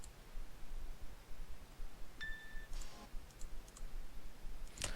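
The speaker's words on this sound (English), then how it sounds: "So there's more clicking sounds to be expected now." A few sparse computer mouse clicks, quiet and isolated against a soft hiss, with a sharper tick near the end and no talking.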